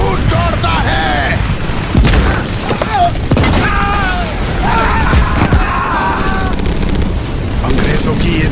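Booming cannon fire and battle explosions roll on continuously through the scene, with several heavy thuds rising above a dense din while someone speaks Hindi over the fighting in a dramatized Azad Hind Fauj battle against British artillery.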